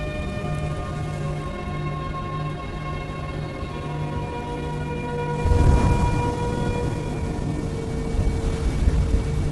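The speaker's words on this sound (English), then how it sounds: "freezing rain like this can be a killer" Freezing rain falls steadily in a snowy Arctic setting where snowy owls live, a constant wash of patter that swells partway through and keeps going to the end.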